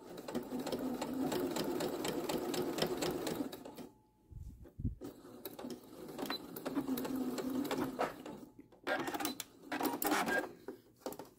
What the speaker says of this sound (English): then I'm going to continue to sew